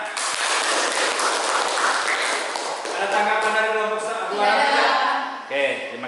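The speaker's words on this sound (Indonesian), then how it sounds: "Ya, tepuk tangan." Classroom applause during a Catholic religious education lesson, a dense burst of clapping from students that gives way to speech and a clear tonal sound in its second half.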